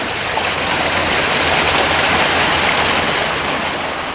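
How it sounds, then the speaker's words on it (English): Flood water rushing through a dike at Stanwick Lakes, Northamptonshire, washing away the bank: a loud, continuous broadband roar of churning water, steady and close throughout, with no talk. "See there where it's washing the bank away, look."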